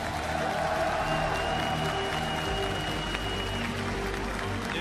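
A crowd at the 2015 League of Legends World Championship opening claps steadily in dense, continuous applause, with a tonal hum and some voices mixed underneath.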